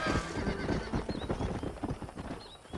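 Horses pulling a wagon along a trail in Red Dead Redemption, a busy, rapid clip-clop of hooves with rolling wagon noise and occasional whinnies, close and steady throughout.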